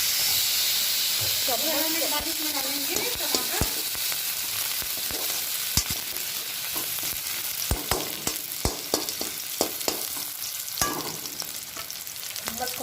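Tivra (grass pea) leaf bhaji frying in a pan until golden gives a steady, close sizzling hiss, with scattered sharp clicks and scrapes from stirring and a brief voice in the background.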